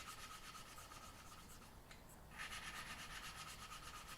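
A 1948 Farmall Cub engine valve is lapped against its seat with gritty abrasive compound. A faint, steady grinding rasp continues with a brief dip near the middle.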